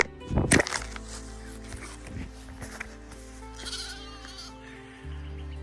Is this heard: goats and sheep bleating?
yes